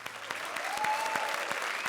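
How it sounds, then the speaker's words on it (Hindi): Studio audience on a Comedy Circus comedy show breaking into applause, a dense, steady clatter of many hands clapping close by for two seconds with no voices on top. "तालियां वसंत के लिए"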